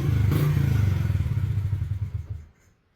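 A Honda CRF50 dirt bike engine with a faulty carburetor and broken idle screw runs with a loud, close, rapid putter for about two and a half seconds, then abruptly cuts off into near silence.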